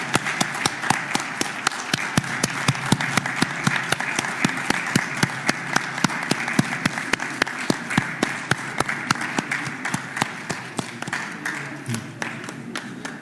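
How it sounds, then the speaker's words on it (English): An audience gives a standing ovation at the handover of the MPs list to the Chief Justice: steady, dense clapping, loud and sustained for over thirteen seconds, with sharp individual claps standing out near the microphone. "So I think we must give them a round of applause and a standing ovation."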